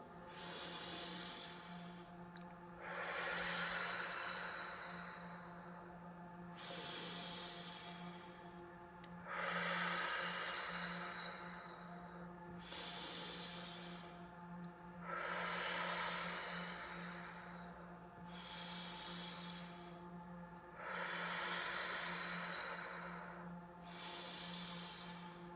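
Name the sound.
deep breathing exercise, inhaling and exhaling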